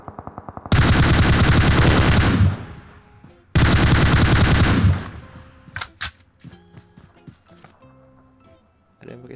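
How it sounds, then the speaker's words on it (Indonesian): Gunfire in a PUBG Mobile match, two long loud bursts of rapid shots each about two seconds, followed by scattered distant cracks, clicks and footsteps, with no voices over it. "Ada yang pakai sniper, malas banget tuh."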